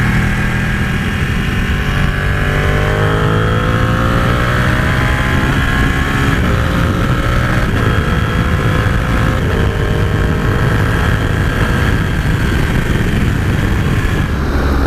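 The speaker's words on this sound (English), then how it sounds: "these Ducatis just sound the business with that big old twin engine" A Ducati 899 Panigale's twin engine drones steadily on the road as the motorcycle is ridden, its pitch rising and shifting through gears, loud and close over constant road and wind rush.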